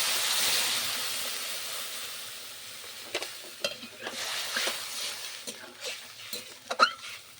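Water poured into a pan of fried mango with salt and turmeric sets off a loud hissing sizzle that fades, followed by scattered crackles, pops and stirring scrapes in a home kitchen.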